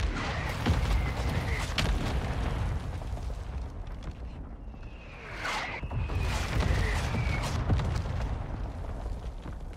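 Mortar strike in Call of Duty Warzone 2, heard as a string of heavy rumbling blasts and booms rolling continuously over about ten seconds, with whistling streaks overhead and dense low-end impact noise.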